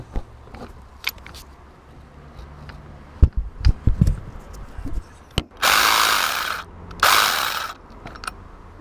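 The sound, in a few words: AC Delco cordless ratchet undoing a bolt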